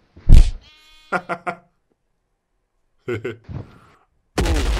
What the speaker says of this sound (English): Oh, hello, sheeps.